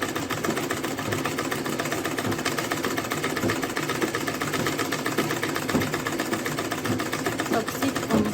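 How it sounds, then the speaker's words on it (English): A sewing machine runs steadily, top stitching an Ankara fabric purse, its fast mechanical hum and needle rattle continuous and close throughout. "So guys, I'm going to top stitch on it now."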